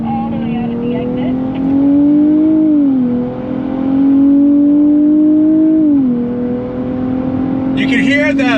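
In-cabin engine note of a 2023 Nissan Z Performance, loud and steady, rising through the gears with short dips at each shift while the car is driven hard on a track.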